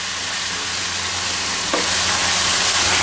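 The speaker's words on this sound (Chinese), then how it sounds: "香料、辣椒、花椒下锅" Spices, chili and Sichuan pepper dropped into hot rapeseed oil with ginger, garlic and chili bean paste, a loud dense continuous sizzle that swells slightly after a brief stir midway, close and without speech.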